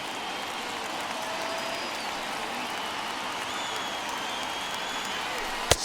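Stadium crowd noise in the baseball video game MLB The Show 21, a broad, steady roar of tens of thousands of fans on their feet, fairly faint and even throughout, with a sharp knock right at the end.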